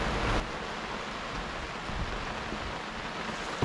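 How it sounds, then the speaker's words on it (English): Steady rain falls outdoors in Puerto Rico, a constant broadband patter on surfaces near a moored boat, fairly soft and unbroken, with no voices. "Like, not a good rain like this."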